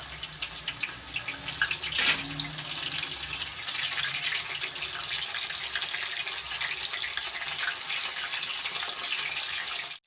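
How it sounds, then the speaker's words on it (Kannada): Mushroom kababs fry in well-heated oil over a medium flame, giving a steady, dense sizzling hiss with fine crackle that holds for the whole stretch and cuts off at the very end, with no talking. "ಈಗ ಎಣ್ಣೆ ಚೆನ್ನಾಗಿ ಕಾದಿದೆ ನೋಡಿ ಎಣ್ಣೆ ಚೆನ್ನಾಗಿ ಕಾಯಿಸ್ಕೊಂಡು ಮೀಡಿಯಮ್ ಫ್ಲೇಮಲ್ಲೇ ನಾವು ಫ್ರೈ ಮಾಡ್ಕೊಬೇಕಾಗುತ್ತೆ"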